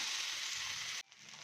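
Okra (bhindi) sizzles steadily in a pan over low gas, a dense, even frying hiss that cuts off abruptly near the end, leaving a softer, quieter sizzle.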